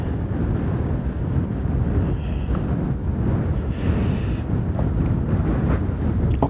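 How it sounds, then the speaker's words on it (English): A deep, continuous rumbling roar of a volcanic explosion from the crater, steady and heavy with wind buffeting the microphone. "Okay, now it was another explosion I could hear."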